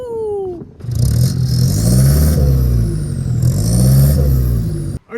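Close, loud engine revs from a top-spec SSR-G Toyota Hilux Surf breathing through a 2.5-inch exhaust with one muffler stepping up to 3-inch behind the rear axle, rising and falling in two long sweeps.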